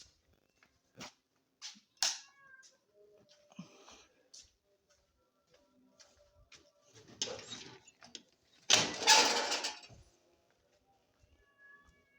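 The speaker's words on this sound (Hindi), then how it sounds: "रोटी जो म्याऊं म्याऊं कर रही है बाहर।" A cat meows repeatedly outside a home at sehri time in short, scattered calls, with household clatter, a few faint voices and a louder rustling burst near the end.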